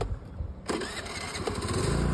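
A scooter engine starts after a quiet moment, catching abruptly and settling into a steady close-up running note, as if heard from the rider's seat.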